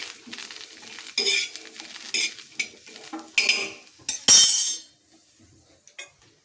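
Asafoetida and garam masala are stirred into a pan for a sweetcorn bhel, giving a run of spoon scrapes and metallic clinks against the pan with a faint sizzle, close and fairly loud, in short bursts without talk.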